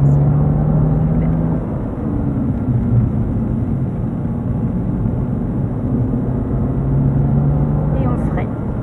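A car accelerating hard around a race circuit at Dreux, its steady engine drone loud and continuous throughout, with a driver talking over it.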